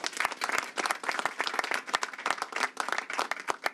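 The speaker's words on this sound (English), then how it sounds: "let's give her a round of applause as well" A crowd applauds steadily, many hands clapping together for several seconds at a close, even level.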